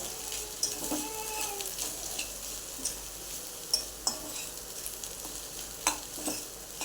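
Green bean stir-fry with chopped coriander being mixed in a pan, soft steady sizzle punctuated by occasional sharp scrapes and taps of the spatula, close and fairly quiet.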